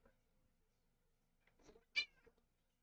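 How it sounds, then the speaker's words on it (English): A pet cat named Luna meows indoors, a couple of soft, short calls followed by one louder, clear meow near the end, close by and with no talk over it. "Yes, you did hear kitty, Crimson. It's my Luna kitty."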